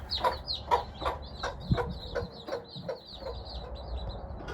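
A mother hen clucks in a steady, soft series of short notes nearby, with faint chirping of chicks and some low rustling in the background.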